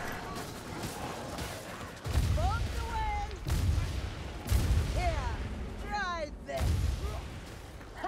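Bombs exploding in the video game Vermintide 2, with several loud booming blasts arriving one after another. Rising whooshing effects and game sounds run between the blasts.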